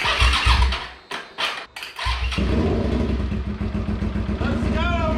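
A restored Suzuki SV650 motorcycle running off a jump-mode battery cranks in a few bursts, then catches and settles into a loud, steady idle with a rough, throbbing beat; a voice briefly speaks near the start.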